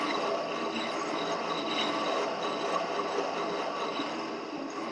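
A knife being ground on a small wheel attachment, giving a quiet, steady mechanical whir with a faint rattling texture that holds evenly throughout.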